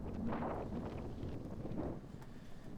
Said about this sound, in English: Nice windy day in England.